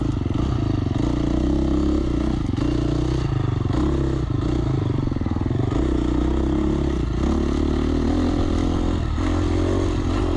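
Dirt bike engine revving hard and shifting pitch through a chicane at a MEHSA race round, loud and close throughout, with clattering and scraping mixed into the drone.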